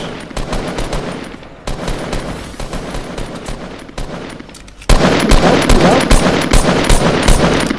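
Rapid gunfire in Fortnite, dense repeated shots in bursts that run nearly continuously, loud and close, with a short lull before a louder volley near the end.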